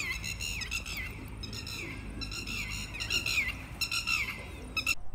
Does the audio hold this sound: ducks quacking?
no